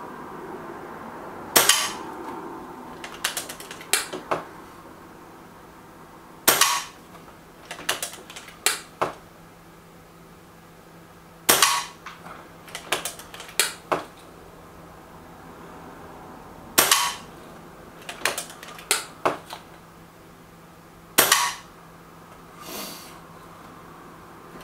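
Reximex Pretensis .22 air rifle firing Barracuda 18 pellets at a target, sharp close snapping shots in repeated clusters of several quick reports, each group separated by short pauses over quiet background.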